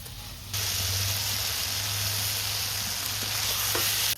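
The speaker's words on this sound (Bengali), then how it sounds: "এখন দিয়ে দেবো ভেজে দেওয়া গুগলিগুলো।" Fried snails drop into a pan of ridge gourd, setting off a sudden loud, steady sizzle that fills the rest of the moment close by, with a faint scrape or two.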